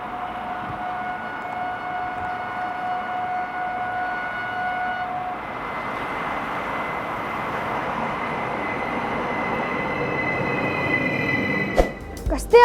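A train rolls past a railway crossing close by without stopping, a steady rumbling roar with rail noise and a long high signal tone early on, building louder toward the end.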